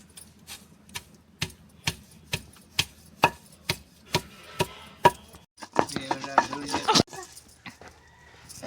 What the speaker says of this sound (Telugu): మంచిగా ఇట్లా మెత్తగా నూరుకోవాలి ఎల్లిపాయలను